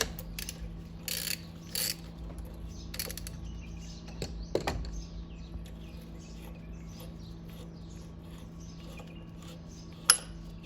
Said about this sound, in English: use a 30mm socket to remove the big nut which secures the pump valve.